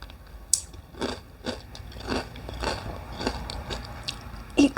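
Golden Grahams cereal is chewed close to the mic in loud, crunchy bites, about seven or eight crisp crunching bursts in an uneven rhythm with soft mouth sounds between them and no talking.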